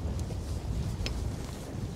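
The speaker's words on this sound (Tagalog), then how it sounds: "Kasi mahangin saka maalon" Strong wind buffets the microphone on a fishing pier at Flinders, a continuous low rumbling roar throughout with a couple of faint higher clicks in between.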